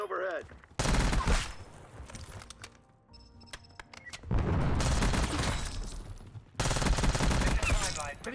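Black Ops 6 match with Kompakt 92 SMG fire in rapid automatic bursts, three loud dense volleys separated by quieter stretches of scattered shots and game noise.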